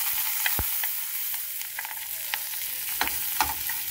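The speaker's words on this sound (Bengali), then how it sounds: "এই যে কাঁচামরিচ ডালতেছি এখন আবার" Green chilies frying in hot oil, a steady soft sizzle with scattered sharp pops and spits, close and moderately quiet.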